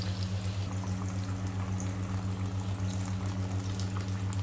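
Plantain fritters in batter sizzle in very hot oil, a steady, close frying hiss with a low continuous hum and no talking.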